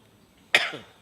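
A single sharp cough bursts out after a quiet stretch, loud and close, trailing off with a rough exhale.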